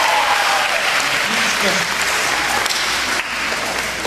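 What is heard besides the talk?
audience applause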